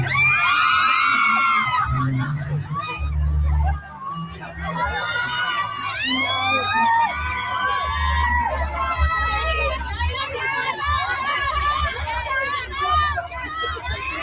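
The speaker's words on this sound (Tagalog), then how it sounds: "ang nangyaring pagsigaw ng mga rally sa White Ribbon Rally" A large crowd at the White Ribbon Rally in the Philippines shouts and cheers continuously, with loud massed voices, screams and rhythmic chanting close around, forming a dense, sustained roar throughout.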